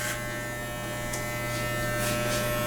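Electric hair clippers run over a boy's thick, coarse, straight hair, giving a steady, close, fairly quiet buzz with no talking.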